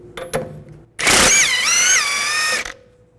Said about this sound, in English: Take a 24mm socket, take this nut off.